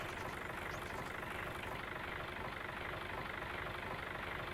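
A tractor engine idles steadily in Farming Simulator 22, a continuous low rumbling drone with no talk, holding an even level throughout.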